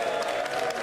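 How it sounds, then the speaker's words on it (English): A crowd claps and cheers at a UK election count or political gathering, a continuous blended roar of applause with some crowd noise under it, fairly loud and close throughout. "can I just jump in while he's clapping?"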